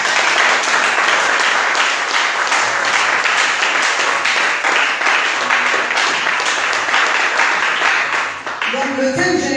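A church congregation applauds loudly and continuously, dense steady clapping filling the space with some voices mixed in, before it thins and a speaking voice emerges at the very end.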